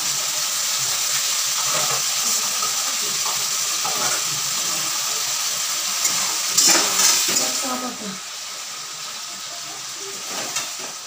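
Spices with cumin, nigella, turmeric, salt and sugar fry in a pan, giving a loud steady hiss and sizzle broken by a few scraping stirs, the sizzle easing slightly toward the end.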